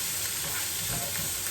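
Purple cauliflower and other vegetables cooking in a pan, a continuous soft, hissing sizzle with faint stirring, steady and moderately quiet with no talk.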